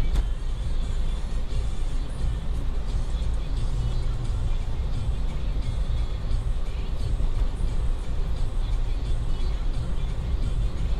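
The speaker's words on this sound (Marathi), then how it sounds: "आतमधनं मस्तपैकी आपली गाडी चालली आहे" A car drives through the Kashedi tunnel on the Mumbai–Goa highway, a steady enclosed road rumble and tyre roar at even loudness, with someone talking over it.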